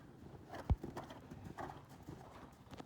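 A horse in a moderate, slow canter in a dressage arena, soft hoofbeats on arena footing with one sharper thud, faint and close, with no voices.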